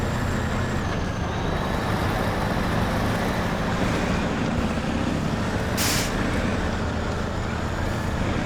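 A truck engine in the SnowRunner video game drones steadily as the vehicle struggles to turn off-road, a constant low rumble with a short sharp hiss of air release partway through.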